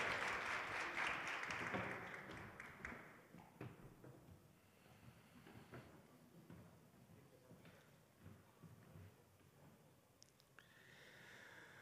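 Loud, dense applause from a crowd at a school awards ceremony fills the opening seconds, then fades into scattered claps and low murmuring.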